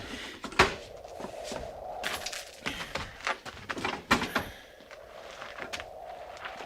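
A wooden door at a frontier fort opens with a knock and latch clatter, followed by scattered creaks, shuffling footsteps and soft thumps nearby.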